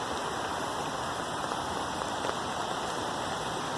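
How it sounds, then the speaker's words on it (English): Rain falling outdoors, a steady, dense hiss with no breaks that fills the whole stretch without any voices. "Yeah, I'm out in the rain."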